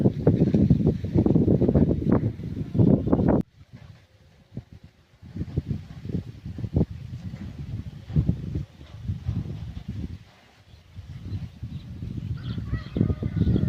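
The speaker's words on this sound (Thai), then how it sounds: "เป็ดเยอะมาก" A large flock of ducks at a waterside goat pasture quacks and honks continuously in a noisy chorus, pausing briefly partway through before resuming, with wind-like rumble underneath.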